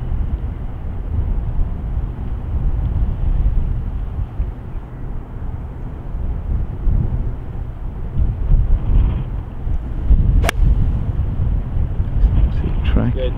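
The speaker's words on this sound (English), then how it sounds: "Just shows you how strong the wind is" Strong wind buffets the microphone on a links golf course, giving a continuous loud low roar that rises and falls in gusts throughout, with a few brief knocks near the end.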